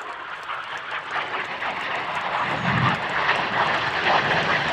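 Red Arrows jets of the RAF display team roar overhead at the Scampton airshow finale, a broad rushing jet noise that builds steadily louder as the aircraft approach.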